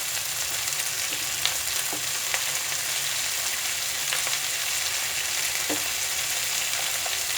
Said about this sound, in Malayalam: ഇതിലേക്ക് ഞാൻ തക്കാളി ഇട്ട് കൊടുക്കുകയാണ്.